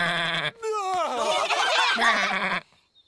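A cartoon sheep from the animated series Ben and Holly's Little Kingdom bleats loudly and alone: first a short buzzing bleat, then a longer, wavering, drawn-out baa that trails off into quiet.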